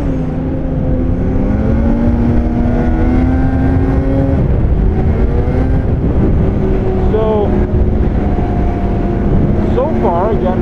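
A 2021 Polaris Indy XC 850 Matryx snowmobile runs with a loud, steady two-stroke engine drone that rises and falls slightly while riding. A voice talks faintly beneath it.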